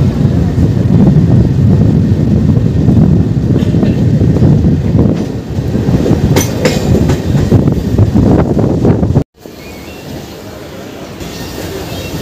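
Howrah–Purulia MEMU local train pulling away from Jorgram station in the rain, a loud rumbling roll with rhythmic clickety-clack of wheels over rail joints and brief squeals, heard from on board, dropping abruptly quieter near the end.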